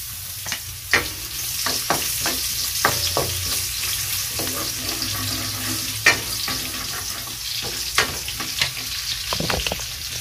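Garlic and ginger fry in a pan for batchoy, a steady sizzle broken by repeated sharp scrapes and stirring clacks of a utensil against the pan, close and fairly loud, with no talking.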